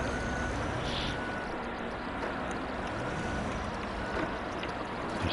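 Tractor engine in the SnowRunner video game, a steady loud straining drone with dense low rumble that holds without a break throughout.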